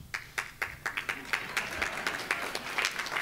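Scattered audience applause at an energy summit keynote in Kern County, a moderate burst of claps spread evenly through a large room, fairly steady with no voices over it.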